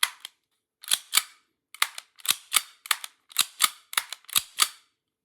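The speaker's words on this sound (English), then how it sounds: "There's our steel slide fitted. That's actually cycling quite well." A Tokyo Marui Sig Sauer P226 gas blowback airsoft pistol fitted with a steel slide is cycled by hand, giving about ten sharp, close metallic clacks in uneven pairs and singles with silent gaps.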